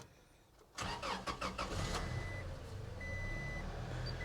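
A used pickup truck's engine cranks briefly and fires up, then settles into a steady idle with a faint chime sounding inside the cab; no one talks.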